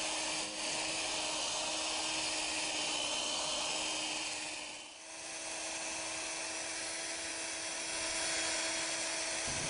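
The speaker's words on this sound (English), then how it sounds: "While you're sanding, you're going to want to cover the whole lamp as you're sanding." Headlight lens sanded with a 3M abrasive using a power tool, a continuous loud high-pitched whirring drone that dips briefly midway, with no voices.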